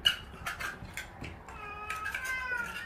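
Cat meowing indoors at a shelter where several cats are being housed together, a few soft repeated meows at moderate distance amid faint room noise, with no talking.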